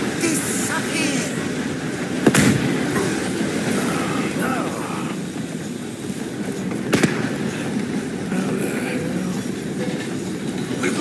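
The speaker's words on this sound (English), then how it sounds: "Too bad about that train!" A steam train in Red Dead Redemption 2 rumbles steadily in a dense wash of rolling wheel and carriage noise, with two sharp clanks standing out and faint voices underneath.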